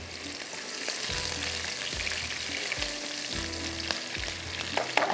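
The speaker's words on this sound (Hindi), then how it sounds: "यहाँ पर करते हैं प्याज को ब्राउन" Onions fry and brown in a pan with steady, close sizzling throughout, with occasional stirring scrapes and no talk over it.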